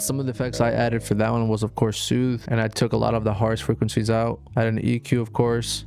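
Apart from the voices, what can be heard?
No distinct noise like a dog, phone or traffic.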